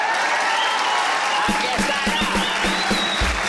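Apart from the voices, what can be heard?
studio audience applause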